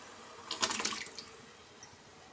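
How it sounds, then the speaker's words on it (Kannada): Water splashes briefly into a pressure cooker of sambar in a home kitchen, a short burst of pouring that fades, then a faint drip afterward, with no talking. "ಸ್ವಲ್ಪ ನೀರು ಸೇರಿಸೋಣ."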